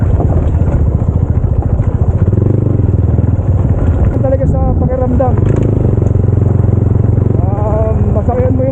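A motorcycle engine runs loud and close while the bike rides along a mountainside road, its steady throb rising in pitch toward the end as someone talks over it.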